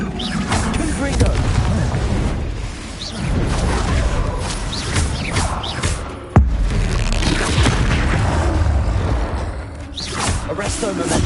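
A Confringo fire spell in Hogwarts Legacy lets off one sharp booming blast partway through, heard over dense, loud game noise full of rumbles and whooshes.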